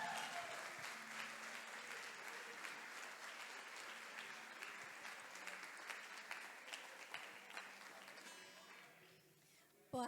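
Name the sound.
congregation applauding in church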